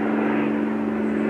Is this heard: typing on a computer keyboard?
no